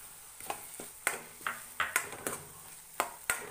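A peanut and green chili paste with grated ginger being sautéed in a pan, with a spatula making a quick series of light scraping clinks against the metal and a faint sizzle underneath.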